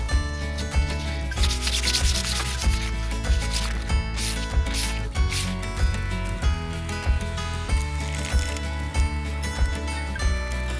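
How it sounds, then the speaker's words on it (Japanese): A varnished wooden surface inside a used Toyota HiAce camper van is sanded by hand, a steady loud rhythmic rubbing and scraping in repeated back-and-forth strokes throughout, with no talking. "ニスが乾いたので表面を削っておきます。"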